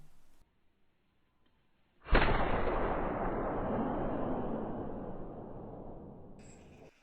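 A single rifle shot fired at an animal 250 meters away in the hunting game theHunter: one sharp, loud crack after near silence, followed by a long rolling echo that slowly fades over several seconds.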